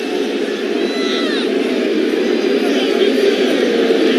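Angry crowd at a West Virginia Mountaineers college football bowl game against North Carolina, a steady roar of many voices booing and shouting, sustained and dense throughout with no pauses.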